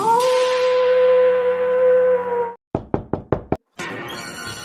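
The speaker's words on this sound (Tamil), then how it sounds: "யாருக்கு கதவு தட்டுனது?" A steady hum breaks off and gives way to five sharp knocks on a door, evenly spaced and close, followed by a returning noisy background.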